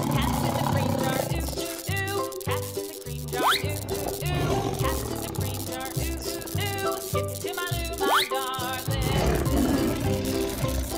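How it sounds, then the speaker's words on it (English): A cartoon tiger roars twice in short rising bursts over a loud, continuous music bed that stays prominent throughout. "Tiger."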